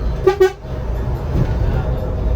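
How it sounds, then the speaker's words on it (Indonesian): Two quick car horn toots in close succession, loud and near, followed by a steady rumble of road and engine noise on a forest road through Bukit Barisan Selatan National Park. "Oh, klakson dulu ya."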